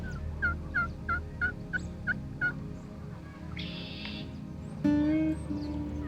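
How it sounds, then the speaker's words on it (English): Rio Grande wild turkey gobbles repeatedly in a rhythmic series of rattling calls, fairly close and clear outdoors, followed by other bird calls and a brief louder burst near the end. "I'm going after Rio Grande gobblers"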